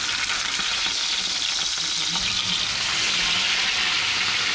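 Food sizzling in a frying pan just after being turned over, a loud, even hiss of hot oil continuing without pause across the whole span, with no speech.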